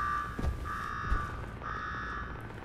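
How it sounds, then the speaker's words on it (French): An alarm sounds in the video game Fallout 4, repeating a steady electronic tone in two long pulses over a dense background hum, with low thumps underneath and no talk. "Va m'éteindre cette putain d'alarme."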